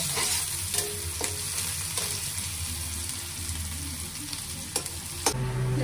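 Onions fry in a pan while being stirred, a continuous close sizzle broken by sharp scraping and clinks of the spoon against the pan, no talking.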